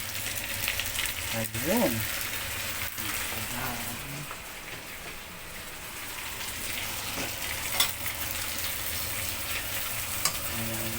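Garlic fried golden brown in a pan for chicken with honey, a dense steady sizzle with stirring scrapes and a few sharp ticks, while a voice speaks briefly over it.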